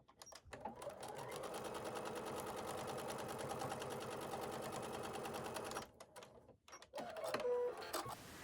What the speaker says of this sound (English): I'm just sewing along the last one sewn. And I'm going to again do a 1/4-inch sewing seam.